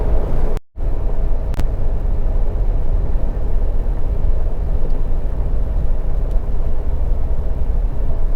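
A car rolls slowly along a rough winter road, its steady broadband rumble and road noise filling the cabin close up, broken by one sharp momentary dropout, with no talking.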